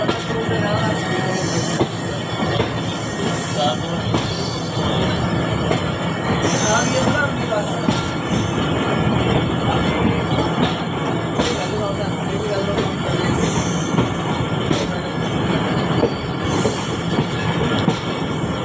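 Sir Syed Express passenger train rolling on after leaving Bahawalpur station in Pakistan, a steady loud rumble of wheels on track with recurring metallic squeals, heard from inside the carriage, with a voice talking over it.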